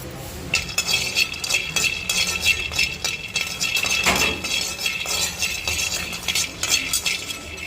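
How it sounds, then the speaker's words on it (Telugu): Peanuts fry in a pan and are stirred with a metal utensil, giving continuous close scraping, rattling and clinking over a faint sizzle, with no talk. "పల్లీలు అయితే ఫ్రై చేసుకోవాలి"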